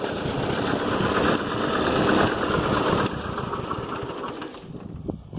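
An old tractor with a slightly leaky radiator idles low and steady, its close, continuous engine drone fading a little toward the end.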